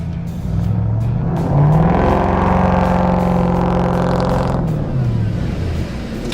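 Tow rig engine revving steadily in neutral with brakes on while pulling a stranded vehicle at high altitude, a loud sustained drone rising and holding for several seconds before easing off, no talk.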